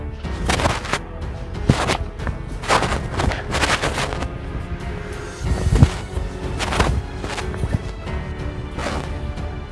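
Repeated gunshot bursts ring out loud and close in a Vietnamese comedy parody spoofing Avengers and Thanos, firing in irregular clusters of sharp blasts with booming, crashing tails across the whole stretch.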